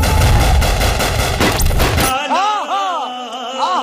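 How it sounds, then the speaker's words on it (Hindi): Gunfire from a Bhojpuri action movie scene: a dense, loud burst of rapid shots and crashes for about two seconds, then cutting to a tonal, sweeping music-like passage with no more shots. "गोलियां चला रहे हैं"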